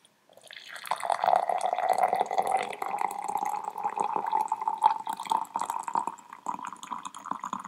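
A steady stream of hot water pours and trickles into a container for tea, a continuous liquid sound with a gently rising tone, heard up close with no voices.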